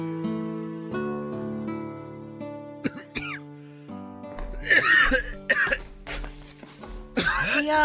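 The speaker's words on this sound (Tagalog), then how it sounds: "Mukhang masama na yung ubo mo ah" Several harsh, rasping coughs burst out close by in quick succession over soft, steady background music.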